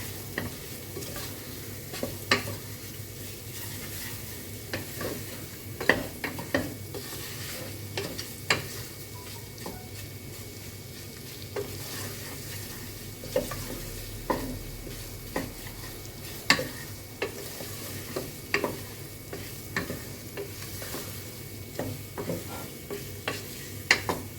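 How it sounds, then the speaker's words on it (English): Chicken gizzards seasoned with salt fry in a pan with a constant sizzle, broken by frequent sharp clicks and scrapes of a utensil stirring, close and alone for a long stretch. "And fry it for like 5 to 10 minutes."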